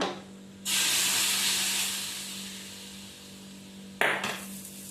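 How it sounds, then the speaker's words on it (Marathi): A loud burst of sizzling hiss as hot tempering oil is poured over grated radish, slowly fading, then a second sharp sizzle near the end. "आता फोडणी आपल्याला वरून ओतायची"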